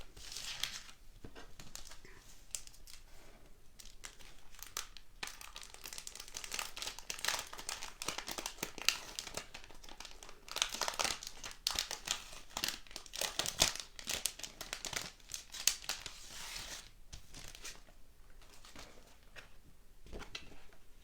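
Plastic packaging holding craft transfers for a banner crinkles and rustles steadily as it is pulled open, a close, busy crackling texture that runs almost continuously for about twenty seconds.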